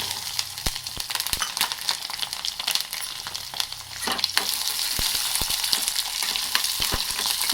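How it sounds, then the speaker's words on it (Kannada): Mustard seeds and garlic frying in a spoonful of oil in a pan, a close, steady sizzle with sharp crackles and pops scattered throughout. "ಈಗ ಬಾಣಲೆಯಲ್ಲಿ 1 ಸ್ಪೂನಷ್ಟು ಎಣ್ಣೆ ಹಾಕ್ಕೊಂಡು ಸಾಸಿವೆ, ಇದಕ್ಕೆ ಬೆಳ್ಳುಳ್ಳಿ ಎಷ್ಟು ಹಾಕಿದ್ರೂ ಚೆನ್ನಾಗಿರುತ್ತೆ"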